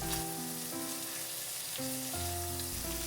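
Hamburger patties fry in a pan for homemade simmered hamburg steak, giving a steady, close sizzle with faint tonal hum layered underneath and no voices.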